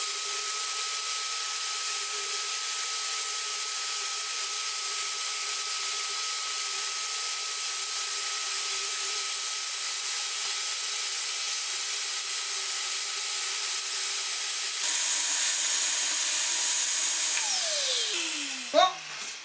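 A homemade cyclone dust-collecting tower built from recycled parts runs as a loud, steady, close whine and rush, then briefly changes pitch as sawdust is sucked up off the floor near the end.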